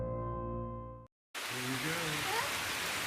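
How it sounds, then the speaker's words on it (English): Steady broadband rain hiss outdoors, loud and continuous after a brief cut from tonal music, with faint voices or other sounds moving under the downpour. "We're gonna go out there in the rain."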